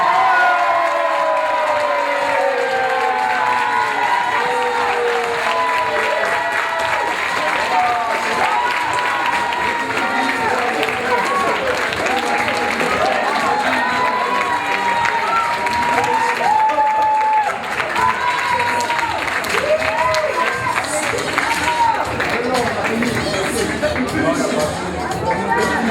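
Steady, loud applause and cheering from a pageant audience crowning the Miss Teen France 2015 winner, a dense wall of clapping, whoops and crowd noise that continues unbroken throughout.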